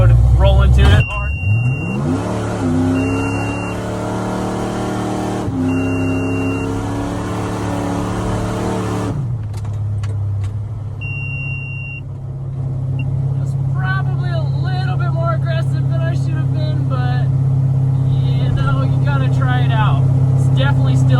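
A supercharged Chevy LUV pickup on street tires launches hard from a dead stop, its loud engine climbing in pitch through several quick shifts before easing back to a steady rumble, with people talking throughout.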